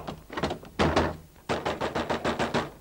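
Fists bang hard on a closed door in a 1948 Hindi film scene, a rapid volley of heavy thuds, a pause, then another quick run of repeated knocks, close and loud with no talking.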